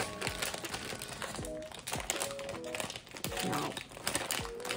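A Lay's potato chip bag is crinkled and strained in repeated handling bursts as someone tries to tear it open, the crackling plastic close and fairly loud throughout, with a voice speaking at moments.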